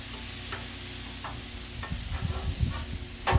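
Tortellini sizzles on a seasoned Blackstone griddle while being pushed around, a soft continuous fry overlaid with scraping and rustling stirring sounds that grow busier toward the end.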